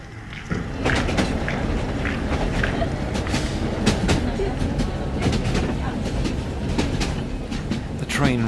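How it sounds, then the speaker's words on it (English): A train in southwest Madagascar clatters and rumbles steadily over rail sleepers through cornfields, loud and close throughout, with a faint voice over it. "The train rumbles its sleepers through cornfields"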